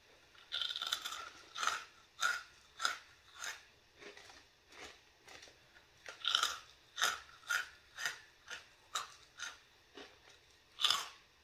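Crunchy chili rice crackers being eaten up close: a steady series of sharp, dry bites and crunches spaced about half a second apart, quiet and intimate with no talking.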